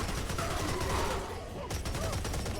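Rapid gunfire in the Serious Sam video game rattles loudly and continuously while shooting down a sniper, with a brief dip in the middle before the burst resumes.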